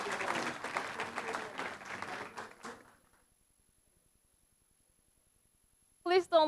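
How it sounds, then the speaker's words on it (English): Applause from a summit audience in Istanbul fills the first half as dense, steady clapping from many hands. It then fades into near silence before a voice speaks at the very end. "A big round of applause for those young talents, please."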